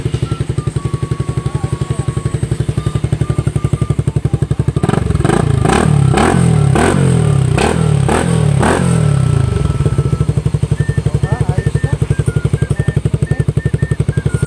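Motorcycle fitted with an open pipe silencer, idling with a steady loud putter close to the microphone, then revved in a series of sharp throttle blips before settling back to idle.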